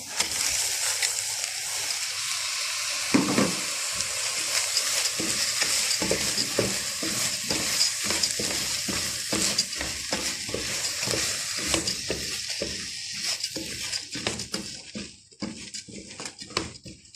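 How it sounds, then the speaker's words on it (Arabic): Washed basmati rice is stirred in a hot pan, a loud sizzle under repeated scraping strokes of the spoon, with a faint patter of grains and no talk. "قلب بقى فيه شويه كده لغايه ما يسخن"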